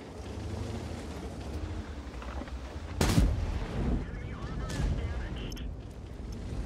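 A tank cannon firing in World of Tanks: one sharp, loud blast cracks out over a steady rumbling engine and wind-like noise, followed by a weaker boom a little later.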